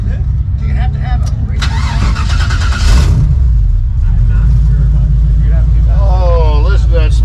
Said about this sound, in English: Oh, listen to that smooth idle finally.